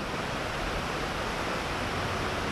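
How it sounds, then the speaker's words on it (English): Distant rumble of Lick Creek Falls in Daniel Boone National Forest, a constant even hiss of rushing water, moderately loud and unbroken, with no talk. "we can hear the thunder of the waterfall"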